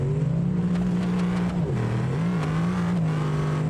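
Car engine revving in the driving game BeamNG, a steady droning tone that dips and rises again midway, loud and continuous throughout with no talk over it.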